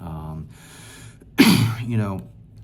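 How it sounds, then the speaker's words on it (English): A single sharp cough bursts out after a brief stretch of voice, followed by a short throat-clearing rasp, close and loud. "I'm dealing with a little cough today"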